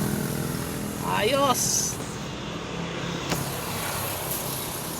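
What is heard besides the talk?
Honda CR-V engine revving at 5,000 RPM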